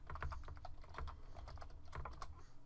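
Keys clack on a computer keyboard as a password is typed, a close run of quick, uneven taps with short pauses between groups.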